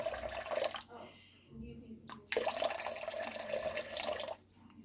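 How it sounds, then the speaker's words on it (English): Hot water runs from a tap into a bowl of cold water for sourdough, a steady splashing stream close by that briefly breaks off midway and then resumes, with no talking. "And now I'm going to add a little bit of hot water."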